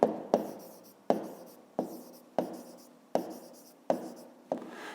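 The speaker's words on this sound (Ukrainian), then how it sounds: "Ну, а тепер записуємо тоді відповідь." Handwriting on paper, recorded close, makes a quiet series of about eight short scratchy pen strokes at a steady rhythm, alone with no talk.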